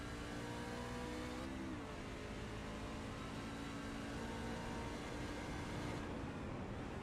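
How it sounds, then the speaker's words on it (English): A race car in a racing video game at Watkins Glen whines at high revs, its engine pitch stepping down through downshifts under braking before climbing again, with no one talking. "You can hear Crank downshifting"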